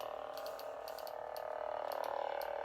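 A Graflex-style lightsaber hilt cycles through blade colors, giving a steady electronic hum with bursts of bright mechanical clicks and ratcheting ticks as the hilt is twisted, close and fairly faint, with no talking.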